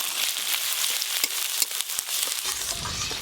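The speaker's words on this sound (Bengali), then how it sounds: "পেঁয়াজ কুচিগুলো এই দেখুন ভাজা ভাজা হয়ে এসছে।" Chopped onions with whole spices fry in oil, a brief, close, even sizzle with a few ticking spatters and a short stir toward the end.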